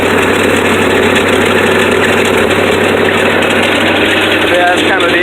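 A 1967 Ford Thunderbird engine idles up close with a loud, steady mechanical hum and rumble, while a person talks over it.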